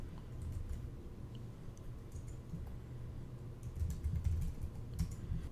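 Quick typing on a Mac computer keyboard while entering a username and password, a steady patter of soft key clicks, close and moderately quiet, with no voices.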